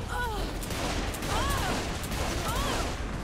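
Gunfire in the video game Saints Row 4 crackles in dense, continuous bursts at moderate loudness, with a few rising whistle-like tones over the barrage.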